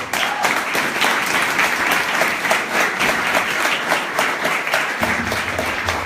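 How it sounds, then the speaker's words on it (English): A crowd applauds warmly, dense steady clapping sustained throughout, loud and close, with no voices over it. "If we could give a warm round of applause for Richard."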